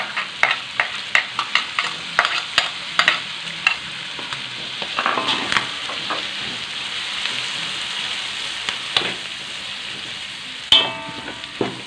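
Blended dried chilies fry in a pan for fried macaroni, giving a steady loud sizzle broken by repeated sharp scrapes and taps of stirring.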